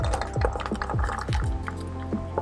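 Tapioca pearls tumble into a pot of water while making brown sugar milk tea, giving a run of close, wet drips, plops and light clinks with liquid splashing, no one talking.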